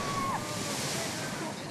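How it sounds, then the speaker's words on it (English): Heavy ocean surf from 7-meter waves driven by high winds and strong tidal currents along the Chile–Peru coastline, a steady broadband wash and roar with wind noise, continuous and fairly loud throughout. "Unusually high winds and strong tidal currents have combined to create 7-meter waves that are pounding the shared coastline of the two countries"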